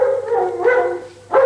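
Two German shepherd rescue dogs on a caving rescue let out loud, drawn-out howling barks close by, with a brief pause before another bark.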